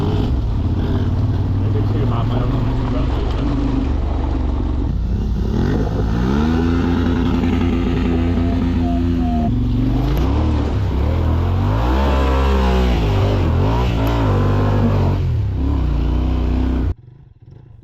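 A Kove 450 dual sport motorcycle engine revs and accelerates on an off-road trail in Wales, rising and falling in loud, near pitch sweeps that continue for most of the stretch before cutting off abruptly near the end, with a rider talking over it.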